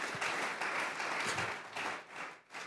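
A church congregation applauds together, a dense, continuous burst of clapping filling the room for a few seconds before tapering off.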